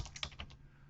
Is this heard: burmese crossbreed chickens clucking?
no